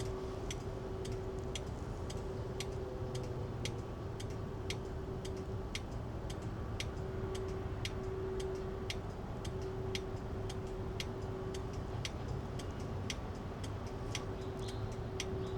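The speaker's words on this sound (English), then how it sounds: "That clicking noise you can hear is the barriers, the flashing lights." Rapid, regular ticking from the flashing lights on the barriers beside a canal, faint and steady over a low background hum, with no talking.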